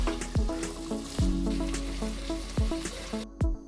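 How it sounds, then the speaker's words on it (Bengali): Spices, boiled peas and potatoes frying together in a pan over a medium flame while ghugni is cooked, giving a steady sizzle broken by regular clinks and scrapes of a stirring spoon. "এখন সব মশলা, আলু, মটর মিডিয়াম ফ্লেমে 6 থেকে 7 মিনিটের জন্য ভালোভাবে কষাতে হবে"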